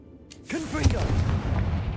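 A Confringo fire spell blast in a Harry Potter video game, a sharp booming burst followed by a rumbling explosion tail that stays loud to the end.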